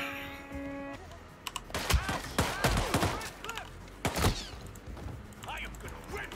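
Gunfire in the stealth video game Hitman, with several sharp, loud broadband shots bursting out in a cluster mid-clip over game ambience and music tones. A voice speaks between the shots.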